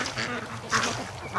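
A duck at a free-range farm quacks in a few short, nasal bursts. The calls are moderately close and come over a faint outdoor background.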